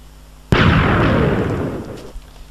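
A single loud, booming blast as a video game TNT cannon fires, then a long rumbling roar decays over about two seconds.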